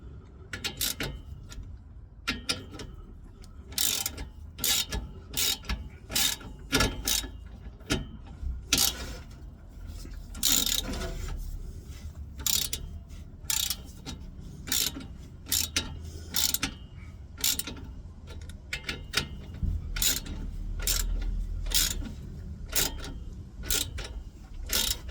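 A ratchet tightens the exhaust clamp on a 2013 Renault Clio Mk4 during a rear silencer replacement. Close, loud rapid clicking comes in repeated bursts with short pauses between strokes, and there is no talk.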